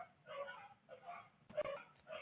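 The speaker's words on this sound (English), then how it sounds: "I apologize about the dogs." Several dogs bark and yip in short bursts indoors, fairly faint and close together, one louder bark near the end, with no talk over them.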